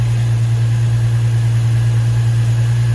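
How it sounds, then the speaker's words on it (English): An Infiniti G35 Coupe engine idling right after an oil cooler kit install, with a steady, deep, even hum and no revving, recorded close and loud. "The idle sounds solid."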